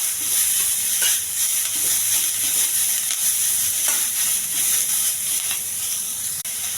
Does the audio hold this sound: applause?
no